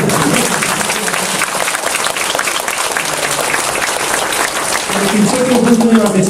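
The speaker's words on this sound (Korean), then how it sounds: "박수를 한번 치시면" A crowd at a community Easter service gives sustained, dense applause for several seconds. Toward the end a voice is heard over the clapping.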